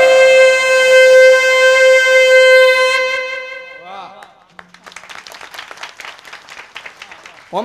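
A man imitates a conch shell blast with his mouth at a devotional kirtan gathering, a loud sustained droning tone of about three seconds, followed by a crowd clapping and applauding.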